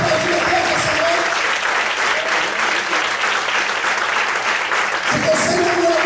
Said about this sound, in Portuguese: Você pode aplaudir a Deus essa noite?